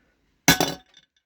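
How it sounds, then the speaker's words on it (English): Metal hammer striking a carbon bike frame: one sharp, loud crack with a brief bright ring and a short tail of faint rattling, then silence. "Let's go up to a metal hammer and give it a whack with that."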